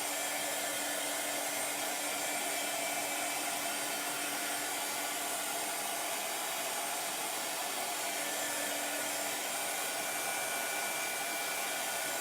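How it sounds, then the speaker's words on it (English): A hair dryer on its high setting blows continuously to dry a Dollar Tree craft project, a loud, steady whooshing drone with no talking. "I really need to get this dry."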